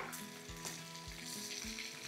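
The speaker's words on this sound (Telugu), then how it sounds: "ఆయిల్లో మంచి ఫ్రై అవ్వనివ్వాలి." Eggs sizzle and crackle in hot oil in a pan for a spicy egg pepper fry, a steady close frying hiss with occasional stirring scrapes and no voices.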